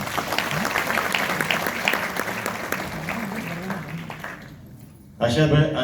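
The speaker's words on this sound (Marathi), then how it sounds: "त्यांच्यासाठी जोरदार टाळ्या वाजवा" An audience applauds in a broad, sustained wash of clapping with a voice speaking over it. Near the end the clapping fades and a louder tonal sound suddenly starts.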